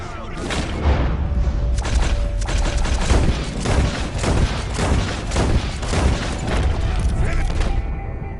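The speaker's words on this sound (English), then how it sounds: "Come on, shoot him." Rapid, repeated gunshots from a Red Dead Redemption 2 shootout crack and boom loudly one after another for several seconds, mixed with other game sounds.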